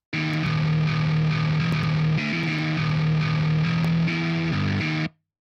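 A heavily distorted metal guitar tone from the Stevie T Amped plugin on its Thal preset plays a chugging, low-tuned eight-string riff. It is thick and loud for about five seconds, then stops abruptly, with no talking.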